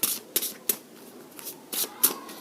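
Tarot cards shuffled and drawn by hand during a reading: a quick series of crisp, close riffling snaps, about half a dozen bursts spaced irregularly over a couple of seconds with quiet gaps between.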